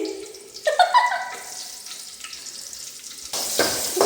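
Onion and garlic hitting hot oil in a home cooking challenge, a brief crackling sizzle with some clatter, fading into quiet before a second burst of sizzle and hiss near the end.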